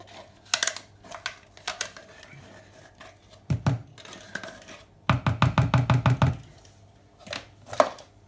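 A hand whisk mixing brown sugar pie filling in a bowl, heard as close, sharp clicking strokes, first scattered, then a quick steady burst of rapid beats, then a few more isolated taps.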